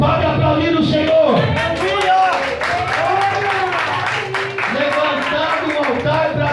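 A Portuguese-speaking church congregation claps and shouts praise together, loud rhythmic clapping under energetic whoops and raised voices that carry through the whole stretch.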